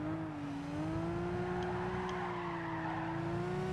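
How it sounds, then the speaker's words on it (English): A BMW slides with squealing tyres in Gran Turismo 5, a steady engine drone with a sustained tyre squeal running throughout, no talk. "Big slide from the BMW there."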